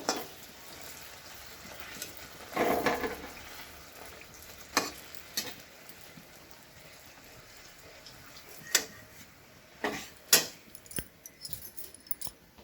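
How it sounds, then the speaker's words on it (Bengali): Egg bhujia, Bengali-style scrambled eggs, fries in a pan with a soft, steady sizzle, broken by occasional clinks and scrapes of stirring, fairly quiet and close. "এখন আমি একটু ডিমের ভুজিয়া বানাচ্ছি।"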